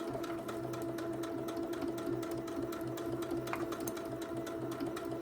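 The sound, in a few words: sewing machine stitching a quilted fabric pot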